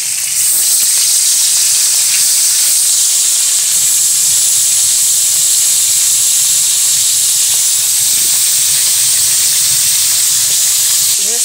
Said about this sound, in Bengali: দেখুন মাছটা ভেজে ভেজে হচ্ছে